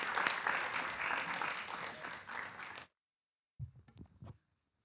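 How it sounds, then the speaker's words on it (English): Applause from an audience greeting a best-selling author at a book launch at Innis College, a dense burst of clapping lasting nearly three seconds before it stops, followed by faint handling noise. "please join me in a round of applause for best-selling author Robert Rotenberg"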